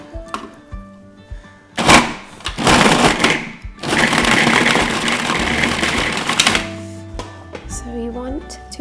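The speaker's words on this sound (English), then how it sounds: "I'm going to be adding my dates into the food processor." A food processor chops dates into a sticky mass, its motor whirring in loud bursts with a thudding, grinding churn between short pauses, while a person talks over it.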